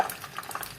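Manti are turned in a frying pan, giving faint scraping and light stirring clicks over a soft sizzle, heard close in a short burst with no talk.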